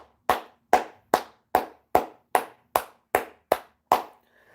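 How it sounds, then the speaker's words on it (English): One person claps ten times in an even, unhurried rhythm, each sharp, close clap ringing out briefly in an otherwise quiet room. "Give me a round of applause."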